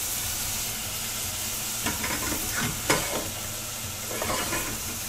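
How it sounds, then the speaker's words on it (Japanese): Onions being sautéed over low heat for keema curry, heard as a continuous close sizzle and hiss with occasional stirring scrapes and soft bursts of crackle. "火加減は弱火のまま玉ねぎを投入してください。"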